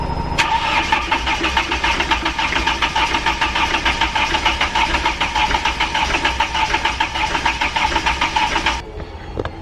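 A narrowboat engine runs roughly for about nine seconds, a loud, close, uneven chugging with knocking pulses before it cuts out.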